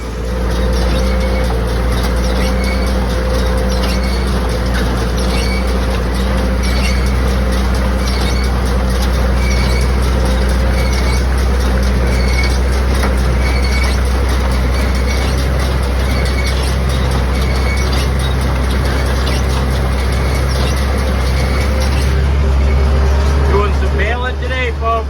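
A Farmall tractor pulls a hay baler turning out bales, giving a steady loud low engine drone with continuous mechanical rattle and clatter throughout, under occasional talk.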